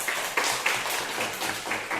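A classroom of students clapping their hands together, soft and fairly distant, with irregular bursts of claps forming a loose patter.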